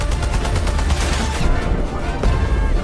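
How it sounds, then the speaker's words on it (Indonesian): Rapid, dense bursts of gunfire crackle continuously, loud and overlapping like a heavy exchange of shots. "menyuruh yang lain untuk melepaskan tembakan ke arah para anak buah Owen"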